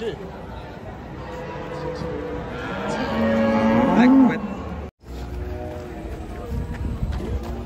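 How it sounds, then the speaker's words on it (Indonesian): Bali banteng cattle low and moo close by amid farmyard bustle and shuffling, with a brief pause midway before the calls resume. "Sapi Bali ya. Sapi banteng."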